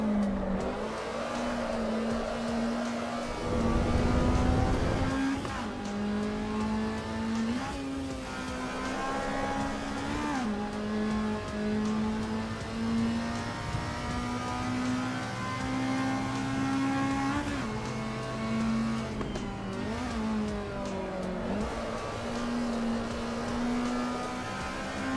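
A race car engine in the Assetto Corsa EVO 0.6 racing game drones loudly and steadily throughout, its pitch climbing and dipping with gear changes and revving, with no talk.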